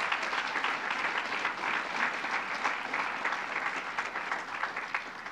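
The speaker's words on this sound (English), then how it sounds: "And let's give the senator a round of applause." A crowd at a Yeshiva University event with Governor Cuomo applauds a senator, with sustained, dense clapping that holds an even level for about five seconds, no speech over it.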